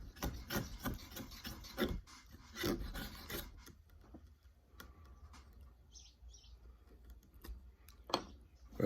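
Wood is shaved by drawing a stick across a fixed blade, making repeated close scraping and rasping strokes in an uneven rhythm. Faint birdsong chirps in the background.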